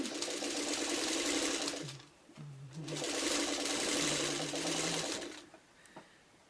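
A sewing machine stitches quilt fabric for a log cabin block in two long, steady runs of rapid needle hum, pausing briefly between them and stopping near the end, with no talking.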